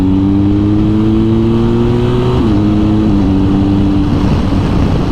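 A BMW R1250GS Adventure motorcycle pulls hard and loud, its engine tone climbing steadily with brief drops at gear changes over constant wind and road roar.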